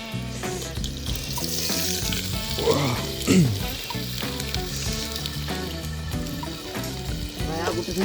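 Mutton sizzles and fries in a pot at an outdoor picnic, a steady crackling hiss with occasional stirring clatter and water sounds under faint background voices.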